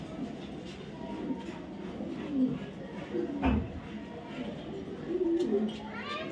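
Several faint, soft coos come from a male racer pigeon from a club outside Dhaka, scattered over a few seconds against low background noise.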